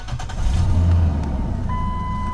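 A 2002-2005 Ford Explorer engine cranks and catches, giving a brief loud low surge, then settles into a steady idle close by, with a thin tone ringing over it near the end.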